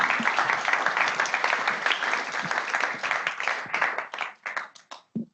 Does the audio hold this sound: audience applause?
yes